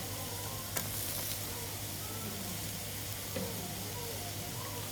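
Chicken stir-frying in a pan with carrots and broccoli, a steady loud sizzle with a couple of sharp scrapes of a utensil against the pan.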